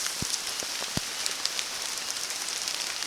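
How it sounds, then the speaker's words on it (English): Steady rain falls during a dog walk at Kingscross near Whiting Bay, a close, even hiss with scattered patters and drips. "the rain"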